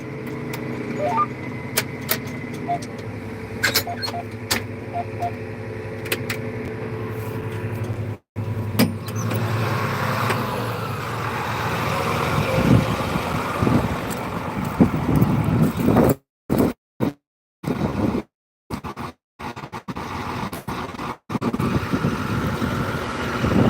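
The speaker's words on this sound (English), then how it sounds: "new tractor's right here." A John Deere 8260R tractor engine runs steadily as a low, continuous rumble, heard from the cab over a long stretch, with scattered clicks and knocks and several brief dropouts toward the end.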